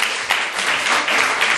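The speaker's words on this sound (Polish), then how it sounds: "Jeszcze raz brawa prosimy." Audience at the Polish "Woman of the Year 2010" award final applauding a winner; loud, close, sustained clapping from many hands with small swells in intensity.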